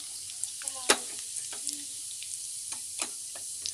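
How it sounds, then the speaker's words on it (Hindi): Cumin and asafoetida sizzle in a pan of hot oil, making a steady, faint crackle. A sharper tap and some scraping, like a utensil touching the pan, cut in near the start, with no speech. "तेल हमारा गर्म हो गया, अब जीरा डालेंगे"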